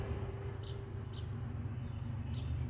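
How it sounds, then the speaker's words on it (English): Steady high insect chirping, crickets trilling in repeated short bursts, sits over a constant low hum and background noise throughout. "Stupid insects."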